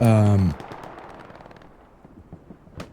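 A field cannon and scattered gunfire during a World War II video game battle at Tobruk: a loud blast or engine roar at the start, then sparse distant cracks and pops over a quieter bed, with one sharp report near the end.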